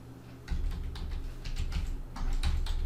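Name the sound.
pressing the Enter key on a computer keyboard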